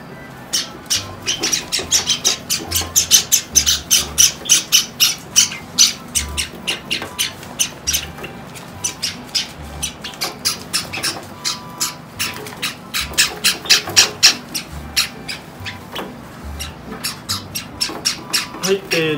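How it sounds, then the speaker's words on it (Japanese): White and sakura Java sparrow chicks squawk in rapid, insistent bursts, loud and close, in a continuous stream of overlapping begging calls. "白文鳥と桜文鳥のヒナが1匹ずつで、合計文鳥が6匹ですね"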